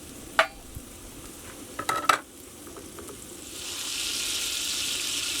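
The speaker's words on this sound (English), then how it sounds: "Using a little butter on the scuttle will help bring those mushrooms to a sear." Mushrooms in butter on a skillet outdoors on a trail: a few sharp utensil clacks early on, then a steady, brighter sizzle of searing building in and holding through the end, with no talking.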